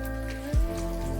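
Fish roe fritters fry in hot oil with a steady, close crackling sizzle, joined by a short thud midway.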